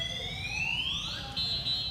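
The anti-theft alarm on an electric bike gives a loud electronic tone that sweeps upward, then settles into a steady high beep, heard close and alone.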